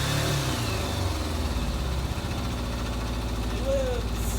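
An old Kawasaki motorcycle engine sputters to life nearby and revs unevenly with a throbbing, loud mid-pitched rumble, and a voice speaks briefly over it.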